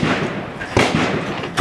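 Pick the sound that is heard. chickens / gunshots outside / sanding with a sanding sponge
gunshots outside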